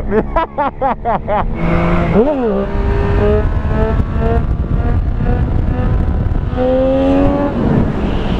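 Motorcycle engine revs hard during a wheelie on a street ride, a loud rising and falling snarl with quick throttle blips, under steady wind noise and a rider's voice.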